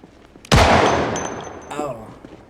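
A single loud gunshot in the zombie survival game Project Zomboid, a sharp close blast with a long decaying echo, followed by a brief faint voice.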